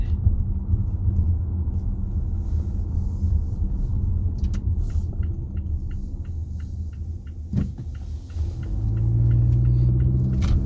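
A 2022 Mazda CX-5 Turbo on the road gives a steady, loud low engine and road rumble throughout, with a brief bump near the middle and the drone rising slightly toward the end.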